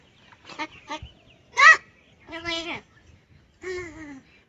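A crow mimicking human speech gives a string of loud, hoarse, voice-like calls in short bursts separated by brief pauses.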